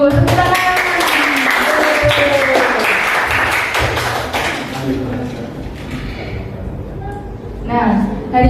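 Classroom applause in an Indonesian lesson: a burst of many hands clapping together, loud and dense, mixed with children's voices, fading after several seconds as talk continues.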